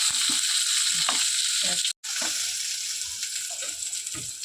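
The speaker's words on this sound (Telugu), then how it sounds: "ఇప్పుడు బాగా వేగాలన్నమాట, దోరగా వేయించుకోవాలి." Two large long-sliced onions frying in a pan with green chilies for a village-style egg curry: a steady loud sizzle with scraping stir strokes, briefly cut off near the middle, with no voices.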